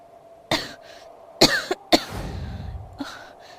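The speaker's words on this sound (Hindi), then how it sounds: "लगता है ये खांसी मेरी जान लेकर ही छोड़ेगी" A woman coughs in a few sharp, separate bursts with brief rasping throat noise between them, close and fairly loud, set in a poor household on a cold day.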